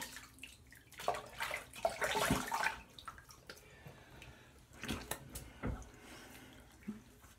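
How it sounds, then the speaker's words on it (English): A Muhle R89 safety razor is rinsed under running water, with splashing and gushing bursts that swell, ease off, then return briefly before fading, heard close and alone. "rinse off here real quick."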